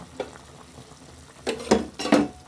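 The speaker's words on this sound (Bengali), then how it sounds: "আমি টমেটোটা এভাবে ঘুটে দিব" Tomato is stirred and mashed in a curry frying in a pan, soft sizzling underneath with three louder scraping strokes near the end, close and without talk.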